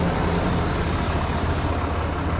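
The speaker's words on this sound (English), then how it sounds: "Quiet little motor." A 2024 RAM 2500 Laramie's 6.7L Cummins turbo diesel idles with a steady, even low rumble and a constant cooling-fan whoosh, close and unchanging throughout, with no voices.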